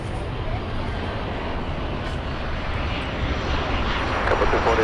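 An airplane lands at Miami International Airport during stormy weather, making a steady, broad roar of engine and air noise that holds throughout and swells slightly toward the end.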